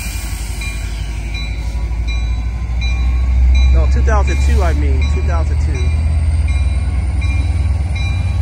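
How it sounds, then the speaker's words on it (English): An Amtrak San Joaquin train led by an F59PHI locomotive departs Emeryville Station in California with a steady, loud rumble as it pulls away, while someone talks briefly over it. "Highballing out at Emeryville, California Station. 2012, F59PHI leading this one off."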